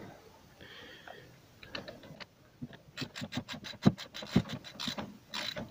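A part under a Renault Duster being turned by hand, giving a run of close, dry ratcheting clicks that speed into a rapid, uneven series of sharp taps with faint scraping between them.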